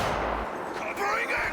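Gunfire in the open-world game Cyberpunk 2077, a loud burst of shots with explosive thumps over a dense combat din, a narrator's voice partly audible alongside.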